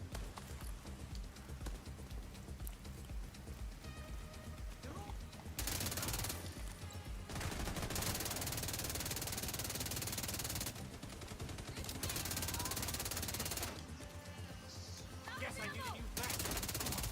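Assault rifle fire from The Division 2 video game, dense sustained bursts of rapid shots in several long stretches, loud and harsh, broken by short pauses, with game noise underneath.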